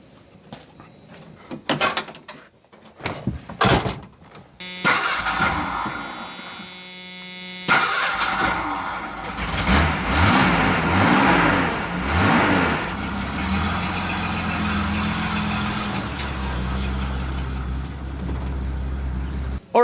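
A car engine cranks and catches, then runs with a steady droning hum that rises and settles as the vehicle is moved, preceded by a few sharp knocks and clatters, close by and without talk.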